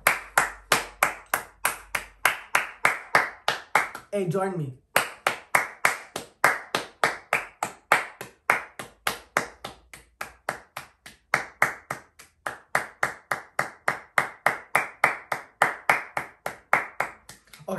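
One person claps their hands in a steady, evenly spaced rhythm for a long stretch, each sharp clap close and distinct, briefly broken by a short spoken phrase.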